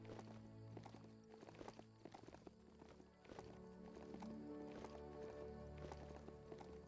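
Faint hooves clip-clop at a quick, uneven gait from a black horse in Biomutant, set over a low game ambience with some soft background tones.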